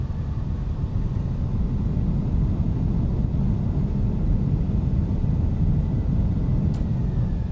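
An airliner's thrust reversers roar as it brakes on landing in the X-Plane 12 flight simulator. The deep, steady rumble holds loud and unbroken throughout with no talk.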